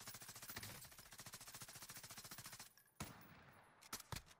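Rapid automatic gunfire in the video game Warzone, a fast even burst of shots for over two seconds, then a few separate louder single cracks after a short gap.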